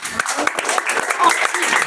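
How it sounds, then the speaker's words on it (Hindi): Students clap together in a classroom, a dense burst of applause with a teacher's voice over it. "ताली मार दीजिए लोग"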